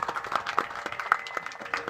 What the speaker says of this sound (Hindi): एक बार तो इनके स्वागत में सभी ताली बजा।